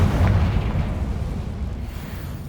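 Confringo fire spell explosion in the video game Hogwarts Legacy: one loud, deep boom with a rumbling burst that fades out over about two seconds, with no talk.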